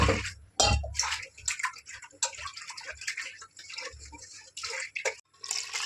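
Cooked dal is poured and scraped from a pressure cooker into a pot of Andhra sambar with tamarind, giving soft wet splashes, drips and a few utensil knocks close by at low volume.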